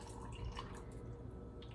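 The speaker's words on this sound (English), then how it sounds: "you're going to put them in a container, and you're going to cover them with water" Water is poured over a cup of almonds in a container, a soft, continuous trickle and splash, faint and close, with a few drips standing out.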